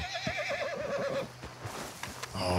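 Donkey whinnying in Red Dead Redemption 2, a loud wavering bray in the first second and a half, with hoof clops and scuffling beneath it and ambient noise after it fades.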